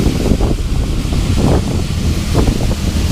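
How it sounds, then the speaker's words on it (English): Strong wind during a snow squall buffets the microphone in a loud, continuous roar with gusty surges throughout, no voices. "And I bet it's super windy."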